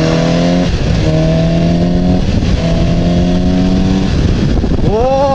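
A Suzuki GSX-S750 motorcycle revs hard in third gear on a racetrack circuit, its engine note climbing in repeated rising sweeps, with a short pause between pulls, loud and close throughout.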